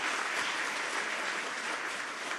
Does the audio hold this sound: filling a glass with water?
no